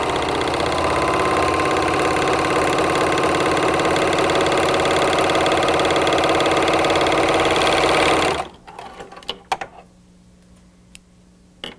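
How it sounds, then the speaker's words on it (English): Speedylock 299 serger stitching a rolled edge on medium to lightweight woven fabric: a loud, steady, fast mechanical whir for about eight seconds, then stopping and leaving faint clicks and handling noises. "We simply place it underneath our presser foot and now serge."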